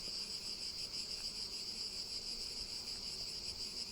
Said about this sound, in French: les abeilles elles sont super cool là